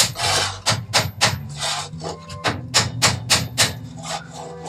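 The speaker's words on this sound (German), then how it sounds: "nehme ich mir eben einen Hammer und einen Klotz" A hammer strikes a wooden block to drive a part into a guide, a series of sharp, close knocks in an uneven rhythm with rubbing, scraping wood sounds between them and no talk.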